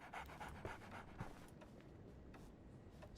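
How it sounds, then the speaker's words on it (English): A dog in a video game pants close by in quick rhythmic breaths, several short bursts in the first part that then loosen into softer breathing and faint rustling, with no talking. "So, Barnes has a dog now"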